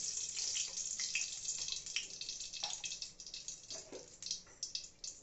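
Ghee hits hot oil in a pan while cooking Dahi katla fish, giving a close, steady, bright sizzling hiss that flickers in intensity and fades slightly toward the end, with no talking.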